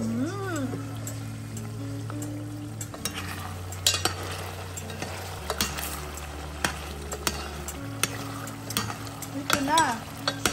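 Pork adobo sauce with tomato, green pepper and jalapeno sizzling in a pan while being stirred, a soft steady fry with scattered scraping and clinking strokes under a low sustained hum.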